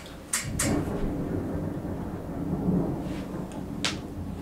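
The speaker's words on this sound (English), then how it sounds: "If y'all hear, like, big, loud sounds, it's a storm outside right now" Low rumbling thunder from a lightning storm with rain outside, a heavy roll with sharp cracks at the start and end, distant and muffled, with no talk over it.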